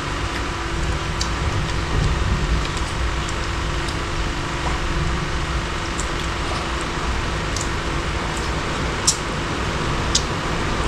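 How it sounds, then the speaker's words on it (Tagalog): Heavy rain pours steadily outside a house with a leaking roof, a dense, continuous hiss with occasional sharp drips and ticks near the microphone. "Lakas ng ulan."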